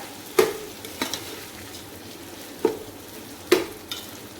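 Four sharp scraping stirs of a spoon through rice with a cumin tempering in a pan, spaced irregularly, over a low steady background hiss from the cooking.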